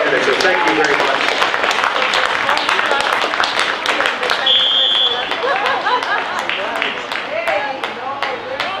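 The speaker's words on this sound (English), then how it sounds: "Let's give them a nice round of applause." A stadium crowd at an American football game between the Rovaniemi Nordmen and Porvoon Teurastajat claps and cheers steadily for the sponsors, with an announcer talking over the applause.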